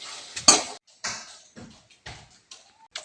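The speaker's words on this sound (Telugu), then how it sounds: "ఇలా పప్పు గుత్తితో మెత్తగా రుబ్బుకోవాలండి" Cooked dal being mashed by hand with a wooden dal masher in a village-style kitchen: a series of separate knocking, scraping strokes against the pot, close and fairly loud, with short pauses between them and no talking.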